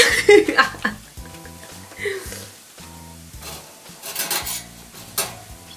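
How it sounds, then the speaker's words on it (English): A spoon scrapes and clinks against a bowl while scooping microwave rice for a Korean Spam rice bowl, with light scraping bursts at the start and again near the end over soft tonal background music. "A spoon, and scoop your desired amount of rice in there"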